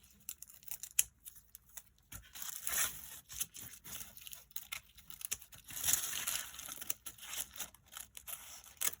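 Quiet, close snipping and rustling of thin paper, irregular cuts with soft crinkles between them, no voices.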